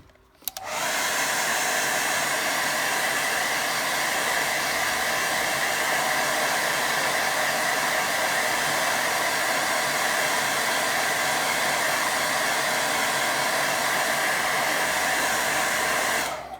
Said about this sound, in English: I'll give that a quick blast with dryer.